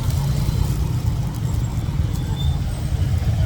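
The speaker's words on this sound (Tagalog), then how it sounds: "Tricycle." A tricycle engine idles nearby, a steady low rumbling drone with continuous road-noise texture and no talk over it.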